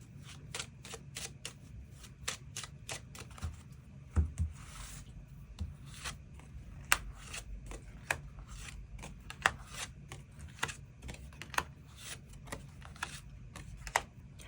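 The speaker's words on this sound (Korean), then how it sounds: "추가 카드 뽑아보도록 하겠습니다" Tarot cards are shuffled and drawn in a quiet room, giving a steady run of close, crisp riffles, slaps and flicks with no talking.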